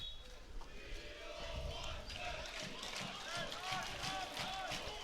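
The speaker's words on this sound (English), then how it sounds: "the Bishops support crowd showing their rowdy. appreciation for their captain, Mikey Ford" Bishops supporters at a school water polo match, Bishops 1st VII against Paul Roos 1st VII, cheer and shout rowdily for their captain, a loud, sustained crowd roar with overlapping voices.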